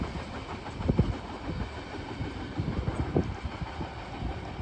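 A fast freight train rushes past with a trailing string of Southern grain cars, a steady loud roar of wheels and rail noise with clickety-clack beats, sustained throughout with no talking.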